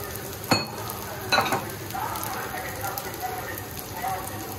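Rice and moong dal stirred and frying in a pot for chicken tehari, a steady close sizzle with two sharp scraping strokes of the spoon early on and softer stirring scrapes after.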